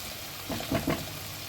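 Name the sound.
stirring eggplant moussaka frying in the pan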